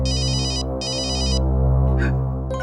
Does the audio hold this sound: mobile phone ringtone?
yes